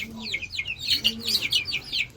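A hen clucks in quick, high repeated bursts with some chirping from chicks, fairly close and without any talking.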